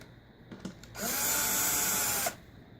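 Power tool whirs in one loud sustained burst of about a second and a half while driving bolts back onto a Craftsman air compressor, preceded by a few faint clicks and handling noises.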